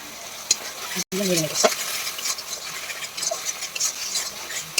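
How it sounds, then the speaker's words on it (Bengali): Spices fry in oil for a fig curry while a spoon stirs the pan, giving a steady close sizzle broken by scraping strokes and a sharp clink, with no talk. "ভালো করে নাড়াচাড়া দিয়ে একটু কষিয়ে নেব, তেল ছাড়া পর্যন্ত কষাতে হবে এটাকে"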